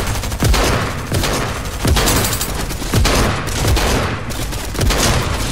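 A legendary SMG fires in Fortnite, sending out fast, punchy automatic bursts in several quick strings with short gaps between them. The shots are loud and close, with no voices over them.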